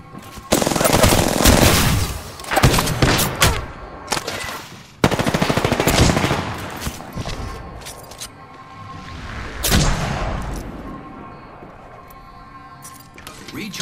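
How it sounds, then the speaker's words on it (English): Bursts of automatic weapon fire in the video game Apex Legends, several loud close volleys spread across the stretch with short gaps, mixed with game effects and occasional voice. "You're shooting at me."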